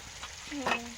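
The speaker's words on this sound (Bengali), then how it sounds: "গ্যাসে মাছ ভাজা বসিয়ে দিয়েছিল, আর কিছু বাকি আছে, ভাজা হচ্ছে" Fish frying in oil in a pan on a gas stove, a short crackling sizzle with a brief stir, heard close and fairly steady.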